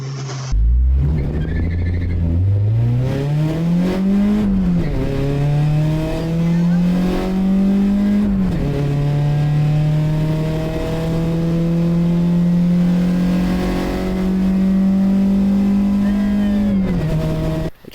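Honda Integra race car engine revving hard on track, a loud close sustained roar that climbs in pitch through the gears with brief dips at shifts, running continuously with no talk.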